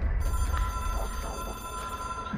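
A red hotline phone in the video game Control rings with a steady electronic bell over a low background hum, sustained and fairly close, with no voices.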